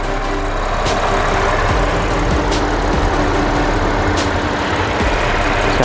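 Supercharged 3.0-litre V6 of a 2012 Audi A6 idling with the hood open, a steady, even engine hum heard up close with no talk over it.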